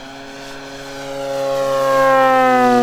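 A 1/5 scale P-51D electric model plane, an 80cc-size restored RC warbird, flies overhead with a loud, steady tonal whine that rises in pitch and grows louder as it approaches, with no talking.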